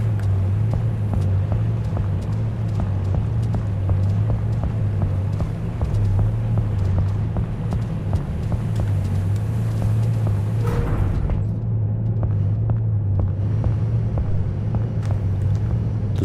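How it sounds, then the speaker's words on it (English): A steady low engine hum throbs in a ship's engine room in Seafarer: The Ship Sim, loud and constant with faint rhythmic clanks and a brief thump near the end. "This sounds like the engine room."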